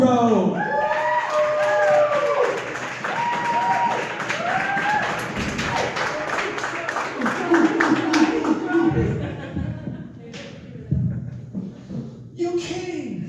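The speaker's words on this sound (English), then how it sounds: "So please give a great round of applause to the one and only Johnny Pogo!" A comedy club audience applauds and cheers as comedian Johnny Pogo takes the stage for his first headline set. Sustained clapping and whoops fill the room at first, then fade into scattered claps, and a voice speaks over it near the end.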